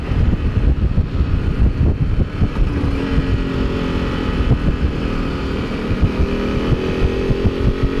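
A starter motorcycle, just back from its first service, rides along with a steady engine drone, a low rumble and rising revs partway through, all under constant wind buffeting on the microphone.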